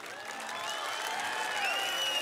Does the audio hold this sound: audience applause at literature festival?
yes